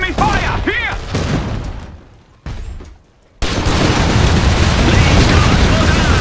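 Gunfire and explosions in the Iron Harvest PC strategy game, with an artillery mech battle: dense bursts and booms, a brief lull near the middle, then a loud, sustained wall of fire and blasts, with in-game voice barks early on.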